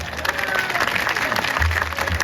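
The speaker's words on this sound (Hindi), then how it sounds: "ये ताली बजाने वाली बात है।" Short burst of audience clapping at a religious discourse gathering, loud and close, a dense continuous patter of many hands with some low rumble underneath.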